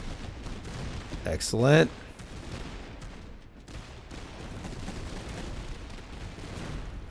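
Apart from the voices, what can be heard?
cannon volley fire in the video game Master of Command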